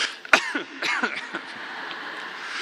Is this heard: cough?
yes